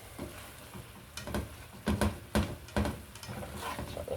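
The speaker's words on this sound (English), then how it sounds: "We'll keep stirring this while it's starting to thicken up." Frozen vegetables and smoked sausage are stirred in a hot pan, sizzling and frying steadily throughout, with several louder scraping pushes of the spoon midway.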